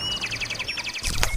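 Birds chirp at Deepor Beel wetland: a rapid, evenly pulsed series of high tweets up close, followed by a denser burst of sharper calls and a brief rustle near the end.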